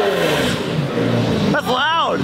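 A Lamborghini's engine roars loudly as it's pushed hard on a drive in France, a dense continuous rev with rising and falling pitch sweeps near the end, while voices talk over it throughout.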